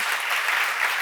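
A congregation claps together at a church seminar, a dense, steady burst of applause lasting about a second.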